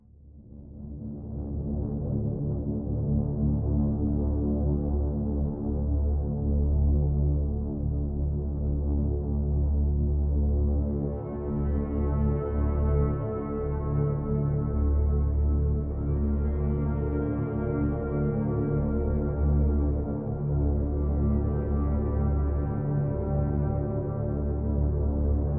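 Sustained synth pads from the Audio Imperia Areia Lite instrument, warm, dense low chords droning steadily with a slow swell, the harmonics brightening partway through, played alone without any voice.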